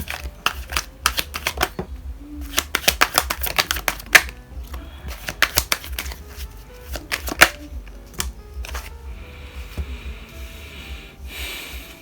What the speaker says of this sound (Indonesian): Kita buka 3 kartu ya.